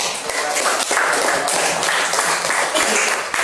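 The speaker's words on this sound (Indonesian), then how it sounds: "Ya, tepuk tangan dulu." A class of students in an Indonesian school lesson claps hands together, a continuous round of clapping at close range, steady and fairly loud throughout.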